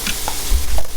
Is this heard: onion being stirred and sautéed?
yes